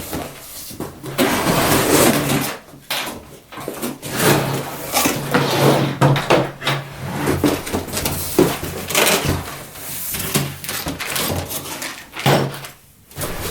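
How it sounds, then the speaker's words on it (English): A cardboard shipping box holding a Scotty 1050 downrigger being cut open and handled, with irregular ripping, scraping and thumping as the cardboard is sliced and pulled apart, close and fairly loud throughout. "let's cut this open and have a look inside"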